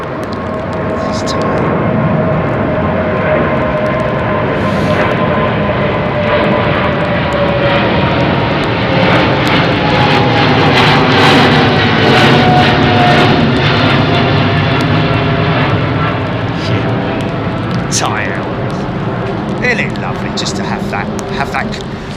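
Big airliner engines roar continuously at London Heathrow Airport under a low cloud base, a loud, steady rumble with a slowly shifting whine. People talk over the engines.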